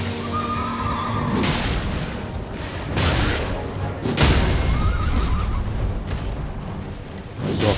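A horse whinnies loudly in Elden Ring amid bursts of heavy thumping and clattering combat sounds, with a second neigh following a few seconds later.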